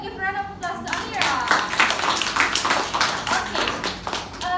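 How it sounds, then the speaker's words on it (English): Classroom clapping for a student during a microteaching lesson, a short burst of many hands applauding close by, mixed with some voices at the start. "Give a round of applause to Amira."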